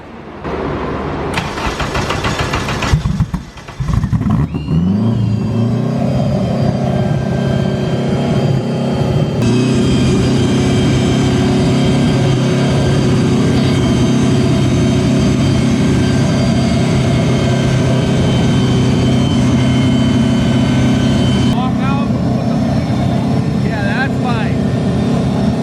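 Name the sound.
Honda Civic race car engine starting and running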